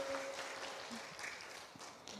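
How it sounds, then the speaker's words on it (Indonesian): Congregation at an online church service claps, fairly faint, steady applause with a few stray tones in the room. "Tepuk tangan buat Tuhan Yesus."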